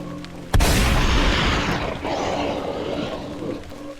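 A single loud shotgun blast booms suddenly and close, then rolls off into a long fading roar and rumble.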